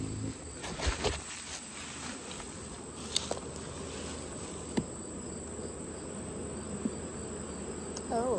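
Honey bees buzz steadily at an open beehive during an inspection, a dense continuous hum close by with faint clicks and taps and no talk.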